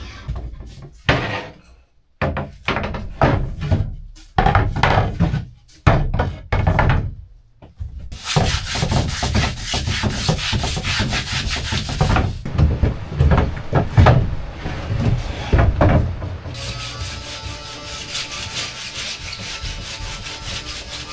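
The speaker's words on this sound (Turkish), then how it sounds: "bir ince zımparayla güne başlayacağım" Rhythmic scraping strokes of fine sandpaper on a boat's painted surface, first in short bursts, then longer continuous rubbing, close and fairly loud.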